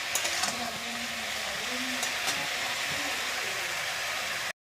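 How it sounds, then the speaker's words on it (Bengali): Potatoes and cauliflower fry in a pan with a steady, close sizzle and crackle that holds at an even level throughout, with faint background hum underneath. "এটা এখন ভাজি, একটু ঢাকা দিয়ে দিব, নরম হবে, তাহলে আলুটাও নরম হবে"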